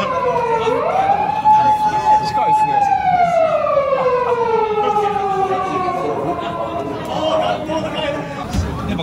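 A police siren wails past in a bar setting during an after-party, its rising and falling tone sweeping loudly over chatter and background voices.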